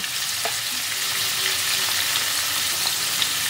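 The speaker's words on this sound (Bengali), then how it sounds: "পনিরগুলোকে এপিট ওপিট করে হালকা লালচে করে আমি ভেজে নেব।" Paneer pieces frying in a pan for matar paneer, a loud, dense, continuous sizzle and crackle heard close up, with faint stirring knocks and no voices.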